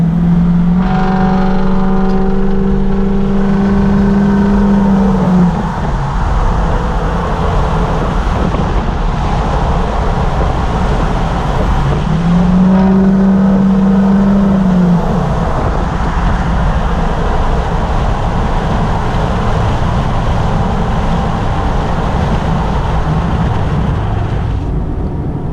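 Ford 6.0 Powerstroke diesel engine with a repaired turbo, at normal operating temperature, revved up twice in steady loud bursts with a rising whine, holding a continuous rumble between pulls and no talk.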